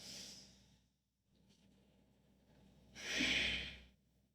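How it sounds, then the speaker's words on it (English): Deep breaths come close to the microphone: a long airy exhale, a quieter stretch, then a big rushing breath, slow and deliberate with no one talking. "Big inhales, expanding into wherever you feel tension. Big exhales to let it go."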